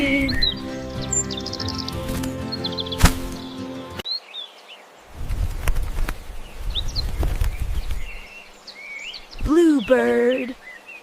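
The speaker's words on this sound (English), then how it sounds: "Robin." A robin sings bright, high chirping and warbling phrases, with other bird calls and harmonic tones at the start and a lower call near the end.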